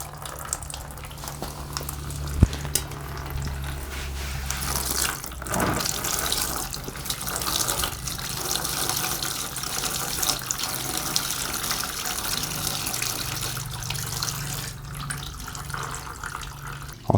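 Engine coolant runs out of an opened radiator hose on a Kawasaki ER6N motorcycle, a steady splashing trickle that continues for a long stretch, close and moderately loud.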